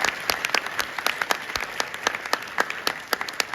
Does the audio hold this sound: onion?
no